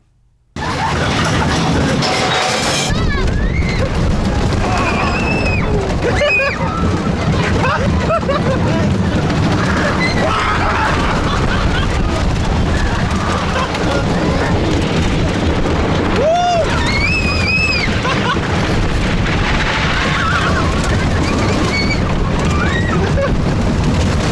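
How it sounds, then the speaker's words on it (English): Wooden Giant Dipper roller coaster ride in San Diego, a bumpy historic West Coast coaster: steady loud rushing wind and rattling clatter fill the whole ride, with brief shrieks and whoops from riders over the roar. "the Giant Dipper is one of the 2 remaining wooden coasters on the West Coast"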